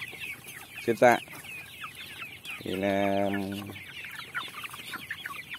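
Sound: free-range chickens clucking on a farm

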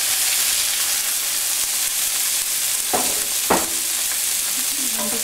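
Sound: diced potatoes with red chili flakes frying in a pan

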